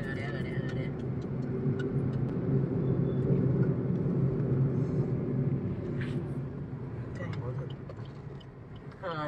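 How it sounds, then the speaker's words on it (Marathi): Steady stream of road traffic with many cars passing on the route toward Bhushi Dam near Lonavala, a continuous loud rumble of engines and tyres, with voices talking over it. "गाड्या गाड्या गाड्या गाड्या."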